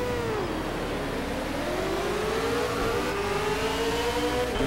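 Ford Falcon V8 Supercar from Project Cars revving hard at Road America, a loud, steady engine note climbing and falling through gear changes, heard alone without talk.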